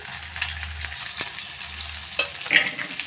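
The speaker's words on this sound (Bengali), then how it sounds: "দিয়ে হালকা করে এবারে ভেজে নেব।" Chopped mango tossed with turmeric and salt fries lightly in a pan for chutney, with a gentle continuous sizzle and a few stirring scrapes and taps, close and moderately loud.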